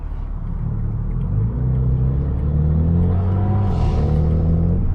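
An Acura Integra drives nearby at night, heard as a steady low engine rumble that builds slightly and then rises in pitch as it accelerates past, heard from inside another car.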